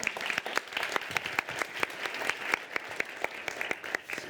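Audience applause at a women's media-experts launch evening in a hall, many hands clapping steadily throughout with sharp individual claps standing out, moderately loud and close, no talk over it.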